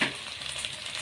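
Pasta and vermicelli tipped into a hot pan for koshari, a steady bright sizzle and frying hiss with a soft initial clatter, close by and without talk.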